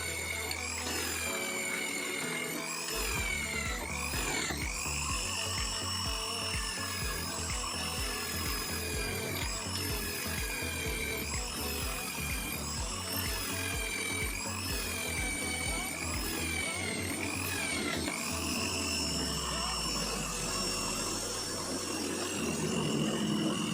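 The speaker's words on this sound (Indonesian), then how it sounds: "Selanjutnya mata bor dari Toho, sama ya, kita akan mengebor 6 lubang." A drill fitted with a Toho bit bores six holes in succession, its motor whining continuously with repeated dips in pitch as the bit bites, along with grinding, rubbing noise.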